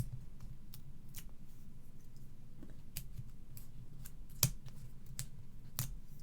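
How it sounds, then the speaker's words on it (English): Sticker sheets being peeled for handmade birthday card making, close up: soft crackly peeling and scratchy paper rustle with a few sharp clicks and snaps spaced out over a low steady room hum. "Start to peel these off, Gaynor."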